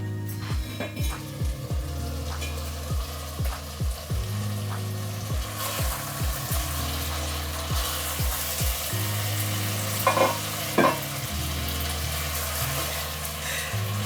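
Shrimp and squid stir-frying in a pan for a spicy dish, with a constant loud sizzle broken by repeated scraping strokes of a utensil and a few sharper metallic knocks near the end.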